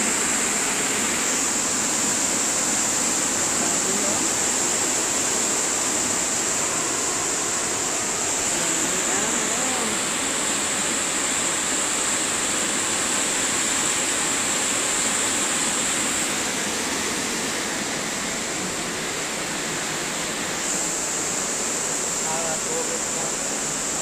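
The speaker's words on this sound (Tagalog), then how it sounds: "Ito ang pang-open sa tubig. Paglabas ng tubig." Water gushes steadily from an opened irrigation outlet, a loud, continuous hissing roar that holds unbroken and close for the whole stretch with no other sound rising above it.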